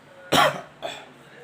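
A person with a cold coughs twice, a strong close cough followed by a weaker second one, alone without talk.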